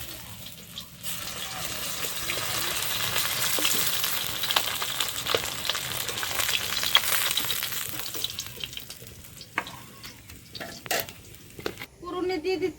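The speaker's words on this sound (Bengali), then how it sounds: "মাছগুলো ভাজা হয়ে গেছে" Pieces of katla fish fry in hot oil in a pan with a continuous crackling sizzle that swells and then eases, followed by a few clinks and knocks near the end.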